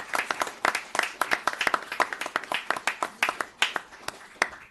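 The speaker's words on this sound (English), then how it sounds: "if I can get a nice well-earned round of applause for Detective Sergeant Sansone" Applause at a town board meeting from a modest crowd, with individual hand claps clearly distinguishable in an irregular, sparse-to-moderate patter rather than a dense roar, continuing for several seconds.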